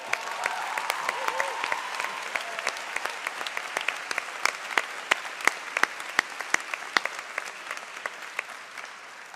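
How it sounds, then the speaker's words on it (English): A graduation ceremony audience applauds the dean, with sustained clapping from a large crowd and sharp individual claps standing out throughout, strong and even from start to finish. "Je crois que le doyen mérite aussi une bonne main d'applaudissements."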